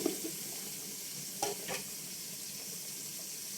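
Garlic and tomato frying in oil for biryani make a steady, moderately quiet hissing sizzle, with a couple of brief clicks near the middle and no talking.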